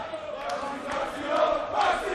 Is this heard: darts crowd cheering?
yes